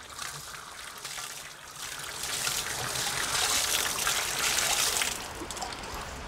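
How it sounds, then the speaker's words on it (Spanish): Water trickles and splashes as an orchid is dipped in it, a steady close-up dribbling and sloshing that swells in the middle and eases toward the end, with no talk. "La meto en el agua."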